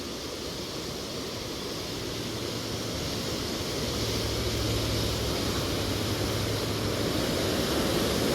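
Floodwater rushes through the opened Koneripatti barrage with a dense, unbroken roar that swells slightly midway, with a low hum faintly beneath it and no speech.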